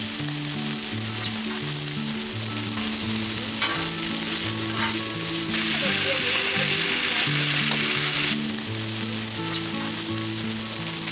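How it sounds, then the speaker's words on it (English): Bacon and sausage frying in a pan, a loud, steady, close sizzle and crackle that runs unbroken throughout with no talk. "you're frying bacon"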